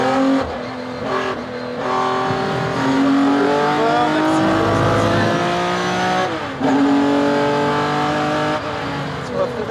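Race car at Mugello circuit during a classic car event, engine revving hard at full throttle with strong rising harmonics, brief lift and gear changes, loud and close throughout, with speech over it.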